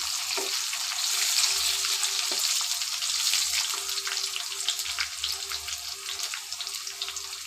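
Oil sizzling in a pan with ginger and garlic, a continuous loud frying hiss with crackles and occasional stirring clinks, close up and without talk.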